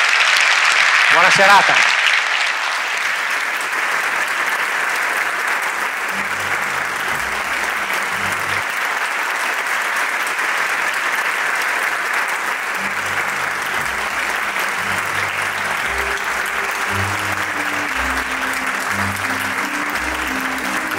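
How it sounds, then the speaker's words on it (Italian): An Italian audience in Padova gives a long, even round of applause for the organizers at an evening show, broad steady clapping that carries on for many seconds while a voice speaks briefly over it. "un applauso a loro perché hanno fatto veramente un lavoro splendido."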